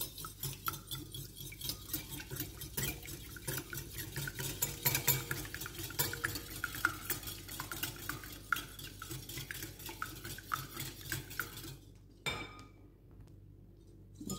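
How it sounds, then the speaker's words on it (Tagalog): Eggs whisked in a bowl for pancake batter, with rapid rhythmic clinking of a utensil against the bowl that runs steadily, then stops near the end. "Mix natin ang itlog guys"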